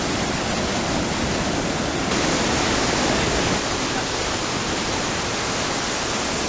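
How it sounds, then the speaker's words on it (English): Steady, dense broadband rush of falling water, loud and continuous throughout, like standing close to a waterfall. "see apparently a pretty waterfall"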